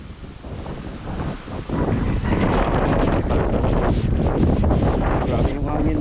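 Strong wind buffeting the microphone outdoors near the water: a loud, continuous rushing roar that grows stronger partway through, with speech-like sounds partly buried under it.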